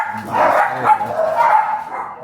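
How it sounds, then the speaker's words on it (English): Several dogs at a home in Mexico bark loudly and close by, a continuous overlapping burst of barks and yips. "That's the dogs."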